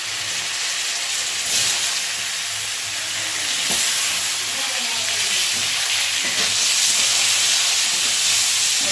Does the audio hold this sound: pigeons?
no